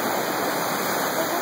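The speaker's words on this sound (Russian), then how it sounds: "Это река стекает в озеро." Steady rush of river water pouring into a lake near a natural area with waterfalls, a continuous broadband wash close by with no voices.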